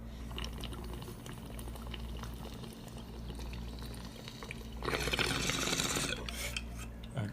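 Water gurgles and bubbles in a bong as someone takes a hit, starting as faint intermittent bubbling and swelling into a louder, steady burble near the end, heard close and without talk.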